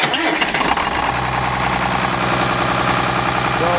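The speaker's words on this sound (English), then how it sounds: "Let me fire it up here and you'll see what the problem is." A tractor engine, suspected of a cracked piston ring and blow-by, cranks briefly and catches, then settles into a loud, steady, close-up idle with a knocking rhythm.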